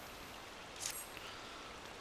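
Steady soft rain falls in Final Fantasy XIV during a fishing scene, a dense even patter with one brief brighter splash partway through, no voices.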